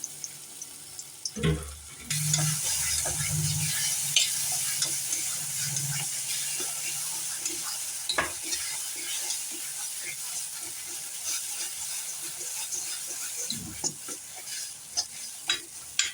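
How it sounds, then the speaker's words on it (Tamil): Mashed banana for halwa sizzles steadily in a hot pan while a utensil stirs and scrapes, with occasional clinks and soft knocks, close up and fairly quiet. "இது ஒரு 2 நிமிஷம் நல்லா வதக்கி கொடுக்கலாம்."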